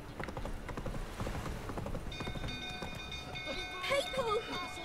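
Geralt's horse Roach hoofbeats in The Witcher 3, a steady clip-clop rhythm running under game music and ambient noise, with a brief whinny-like cry near the end.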